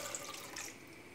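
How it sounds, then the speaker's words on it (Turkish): Water pours steadily into flour in a kneading bowl, a continuous soft rushing splash at close range. "Şöyle bir dolu su ekliyorum."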